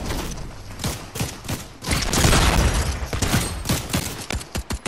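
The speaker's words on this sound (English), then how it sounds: "Oh, they're trying to shoot." Rapid bursts of video-game gunfire in Fortnite, dense overlapping shots and thuds with a sustained loud volley in the middle, then spaced single shots near the end, no talking.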